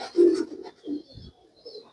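A Jeth performer pigeon coos close by, a few soft throaty low notes in a short rolling phrase with brief pauses, quiet and alone.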